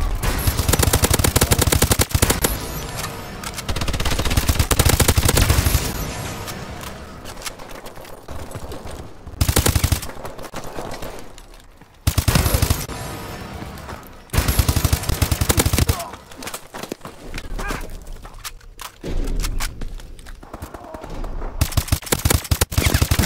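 Rapid bursts of automatic gunfire ring out in a first-person shooter game, loud and repeated in clusters with short gaps between volleys.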